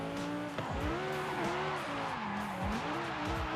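A twin-turbo Lamborghini drifts in a Forza Horizon street race, its tires squealing in repeated swooping bursts over a loud, steady engine roar.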